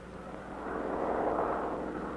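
A low-flying propeller plane used for insecticide spraying passes over a line of ground checkpoints, its broad engine drone swelling louder midway and holding steady as it crosses overhead.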